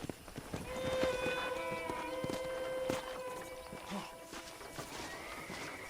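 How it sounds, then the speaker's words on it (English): A horse in the Red Dead Redemption video game whinnies amid soft hoof clops and a ringing ambient musical backdrop, moderately close and not loud, with no talking. "I picked out a fine horse for you."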